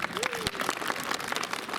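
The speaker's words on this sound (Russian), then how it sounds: "Вам всем аплодисменты." An audience at a school last-bell ceremony for ninth-graders applauds, a brief, fairly faint and even spread of clapping with a voice faintly present alongside it.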